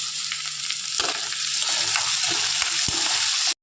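Onion and tomato sautéing in a hot pan, a steady close sizzle running without a break, with a few stirring scrapes, until it cuts off abruptly at the end.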